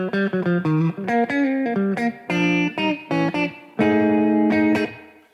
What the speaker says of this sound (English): it would sound like this.